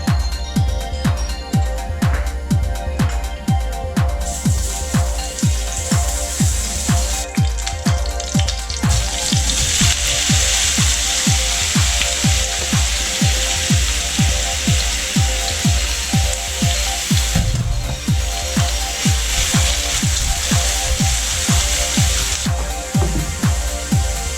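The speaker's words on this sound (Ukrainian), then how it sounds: "смажу гриби на вершковому маслі. Так смачніше." Mushrooms frying in butter in a pan, a steady dense crackling sizzle that stays loud and close for the whole stretch, with no talking.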